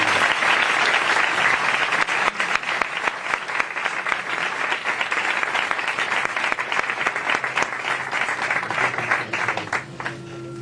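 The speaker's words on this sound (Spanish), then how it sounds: "Un fuerte aplauso para" Strong, sustained applause from a conference audience in Seville fills the room from start to finish, dense and steady, then thins slightly near the end.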